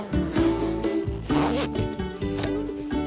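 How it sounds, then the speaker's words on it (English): A hoodie zipper is pulled up, producing a rasping zip in several quick, close strokes, each with a bright ratcheting texture, heard alone and near. "All you have to do is zip it up."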